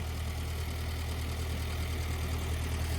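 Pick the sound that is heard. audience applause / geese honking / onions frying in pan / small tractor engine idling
small tractor engine idling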